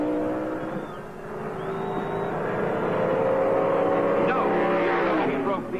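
A Plymouth Cuda drag race car launches at the Winter Nationals, its engine rising in a loud sustained roar over a tone-heavy whine, with an announcer talking over it.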